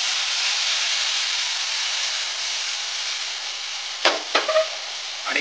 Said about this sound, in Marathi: त्याच्यानंतर लगेचच आपल्याला याच्यामध्ये दूध घालायचंय